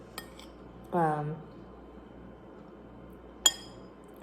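A utensil stirring food dressed with soy sauce in a bowl, a few sharp clinks against the dish, with a short spoken word between them in an otherwise quiet room.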